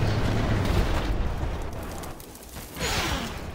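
Tank shell striking a target in Armored Warfare, fired from a Chieftain Mk 6: a loud, broad explosive boom with a rumbling tail, followed by a second burst near the end.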